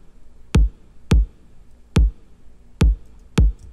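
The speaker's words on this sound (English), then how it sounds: "I went with a progressive house kick with more high frequencies, more mids, and a little less low frequencies." A progressive house kick drum with reverb and a bright, punchy top hits five times in a steady, slightly uneven pattern, each thump sharp and close, separated by near silence.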